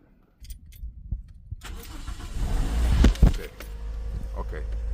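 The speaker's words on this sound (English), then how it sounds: "Okay, so we crank up the car." A Toyota's engine cranks and catches in a garage during a transmission axle seal job, after a clatter like keys; the starter whirs, then the engine settles into a steady idle, close and growing louder.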